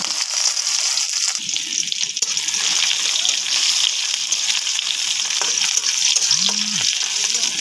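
Onions fry in hot oil with a dense, continuous crackling sizzle close by, along with faint stirring and a brief clink near the end.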